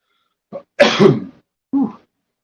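A short intake of breath, then a loud close-up sneeze, followed by a brief sniff or small vocal sound.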